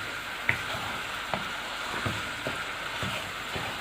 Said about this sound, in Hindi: अब हलवे को इस देसी घी में अच्छी तरह से हम भूनेंगे।